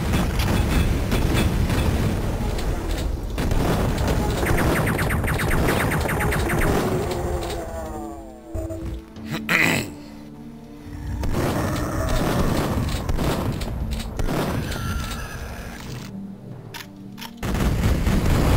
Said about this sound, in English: Enough with the explosions already.